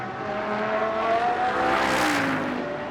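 A Bentley race car engine roars steadily during Blancpain Sprint Series qualifying in Moscow. Its pitch climbs and swells toward a loud peak as the car passes close by.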